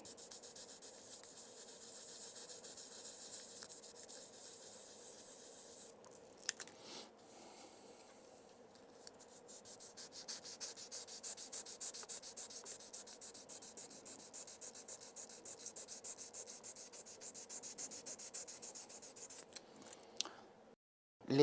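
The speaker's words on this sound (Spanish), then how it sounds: "voy a darle un poquito de lija a el fotograbado que voy a utilizar." Steady, soft scraping of fine sanding over a small photo-etched part for a Merkava tank scale model, continuous for most of the stretch with a brief pause midway and a few light knocks.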